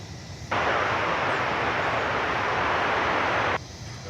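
An American Airlines jet arrives at DFW Airport: a steady roar rises abruptly, holds loud and even for about three seconds, then cuts off, over a low background rumble.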